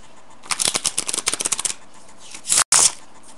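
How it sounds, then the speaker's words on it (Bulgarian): Playing cards are riffle-shuffled up close, a rapid run of crisp flicks followed by a short pause and a final burst as the deck is squared, the cards being shuffled for a card trick. "сега разбъркваме картите"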